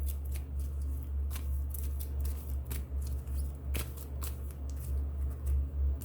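Oracle cards being drawn from a deck, heard as a run of crisp close shuffling and flicking sounds with irregular sharp snaps over a steady low background hum.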